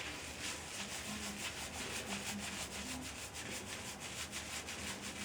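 Fingers rub shampoo into very dry hair at the roots, a quiet close-up steady scrubbing with rhythmic strokes throughout.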